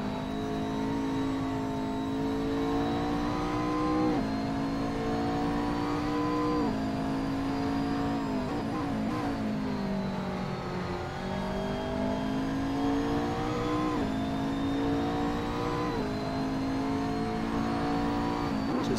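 A turbocharged 3.8-litre V6 engine of a McLaren 650S race car in a sim racing game at Laguna Seca drones steadily, with repeated upshifts and rising revs under a continuous engine hum and no talk.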